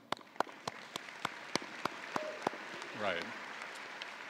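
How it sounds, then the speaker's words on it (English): Sharp, evenly spaced claps ring out one after another in a hall at a university convocation, roughly a dozen in a steady rhythm, with a brief spoken word near the end. "Most of us are probably comfortable with clapping."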